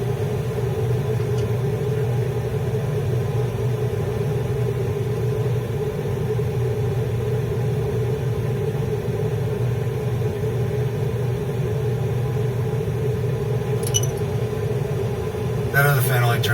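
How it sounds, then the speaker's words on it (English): A Rec Tec 680 pellet grill runs its fan and auger with a steady, low mechanical hum and whir, continuous and unchanging, up close with no talk. "That other fan only turns on when the auger spins."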